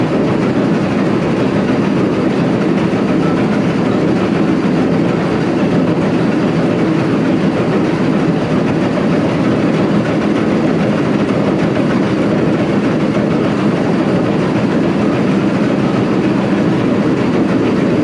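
The engine of the USS Potomac presidential yacht runs steadily, a dense, even mechanical drone that holds constant throughout with no change in loudness and no voices.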